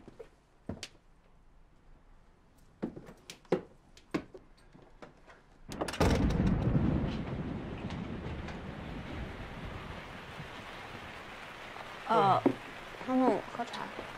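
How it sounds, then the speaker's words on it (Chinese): Rain begins suddenly outside, a steady soft hiss rising out of a quiet room after a few scattered clicks and knocks, then continuing evenly at moderate volume with brief vocal sounds near the end. "下雨了啊。"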